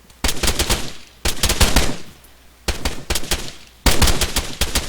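Bursts of rapid automatic gunfire during a training exercise, with four loud volleys separated by brief pauses, close and sharp.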